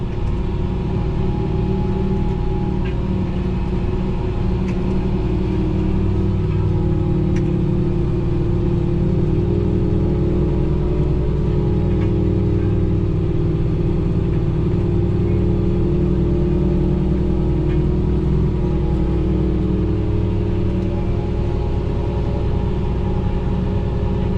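A Fendt 1050 tractor engine runs steadily during cornstalk tillage, a constant low rumble with a whirring drone from the cab and no clear changes in pace.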